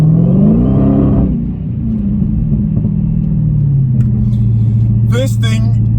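A 2017 Dodge Challenger Hellcat's 6.2 liter Hemi accelerates, a loud, close engine roar whose pitch climbs and then settles into a steady drone, with a voice briefly audible over it.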